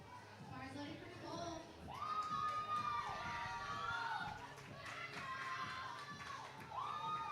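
A crowd at a women's powerlifting meet cheers and shouts excitedly for a lifter, rising whoops and calls heard from a distance, rather faint, with talking mixed in.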